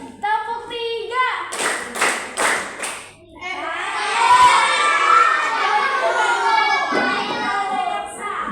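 A group of children clap out a quick pattern of three claps, followed by loud shouting and chatter in a classroom.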